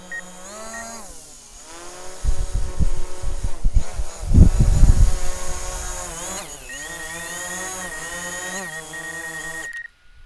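A DJI Mavic Pro drone's motors whine in layered pitches as it is landed onto a hand, revving and shifting pitch with buzzy thumps mid-way before settling and cutting off abruptly; close and alone.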